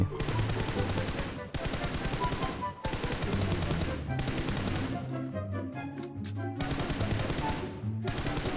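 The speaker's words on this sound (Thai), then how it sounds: "เดี๋ยวผมจะยิงแบบ 400 ให้ดูก่อนนะครับ ว่าหน้าจอมันจะสั่นแค่ไหน" Automatic gunfire from the mobile game PUBG Mobile rattles in loud, rapid bursts, four long sprays separated by brief pauses, with a scattering of shell-like clinks between them.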